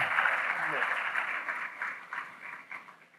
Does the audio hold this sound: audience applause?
yes